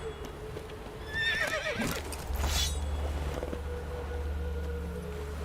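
A video-game horse named Roach gives a loud shrill whinny over a steady low rumble of game ambience, with hoof clatter and a voice nearby.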